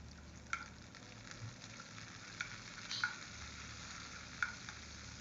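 Curry leaves and green chilies sautéing in oil, a soft, even sizzle with occasional spoon taps and stirring clinks against the pan.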